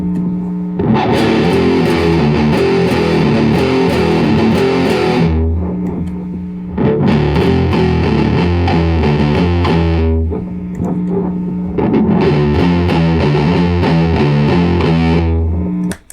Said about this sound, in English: Now let's boost it with the tube screamer.